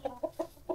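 Four short, faint clucks from a black Rhode Island chicken, evenly spaced in quick succession with no talk.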